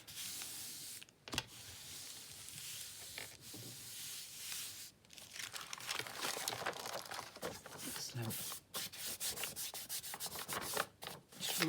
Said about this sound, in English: Just rubbing off any excess glue underneath